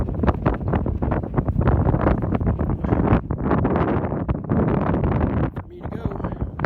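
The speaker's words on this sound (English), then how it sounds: "Definitely got that wind front." Strong gusty wind buffets the microphone outdoors in a Colorado ghost town, producing continuous loud rumbling and flapping bursts throughout.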